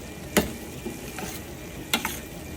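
Ghevda beans are stirred with roasted peanut powder in a pan: two sharp scraping strokes and a few fainter ones over a quiet background, with no talking.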